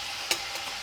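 Sweet chili shrimp is stirred in a sizzling pan, with a steady frying hiss and one brief utensil scrape.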